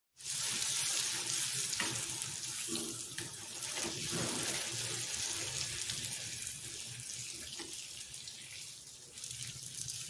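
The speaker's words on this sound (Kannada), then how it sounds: "ಇವಾಗ ಇನ್ನೊಂದನ್ನು ಸುಡೋದಕ್ಕೆ ಹಾಕ್ತಾಯಿದ್ದೀನಿ. ಇದಕ್ಕೆ ಎಣ್ಣೆ ಹಾಕಿ ಮುಚ್ಚಿಡೋಣ." Food fries in oil in a covered pan, making a loud, steady hissing sizzle that begins abruptly and carries on evenly to the end, close up with a few soft knocks underneath.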